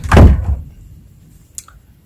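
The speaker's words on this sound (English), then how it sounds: "my door just opened" A room door opening at home: a solid thunk at the start as the door moves, followed by quiet room tone and a faint click a moment later.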